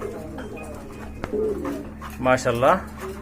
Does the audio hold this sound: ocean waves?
no